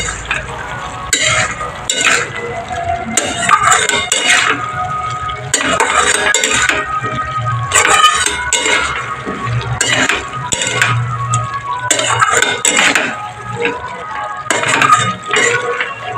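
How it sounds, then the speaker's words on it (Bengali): Potato and paneer curry being stirred in a pan, with repeated scraping strokes of a spoon against metal over a steady sizzle, close and fairly loud throughout, with occasional clinks. "এবার আমি ভালো করে আরো অনেকক্ষণ ধরে নেড়ে নেব।"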